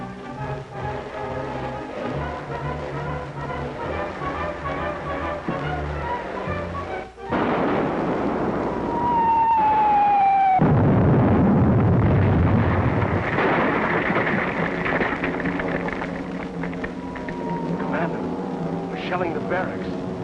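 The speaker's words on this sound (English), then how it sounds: "Shelling the barracks." Artillery shelling of barracks in a 1942 war film, heavy booming blasts and a long rumbling explosion that swells and lingers, with a falling whistle before it, over earlier voices and music.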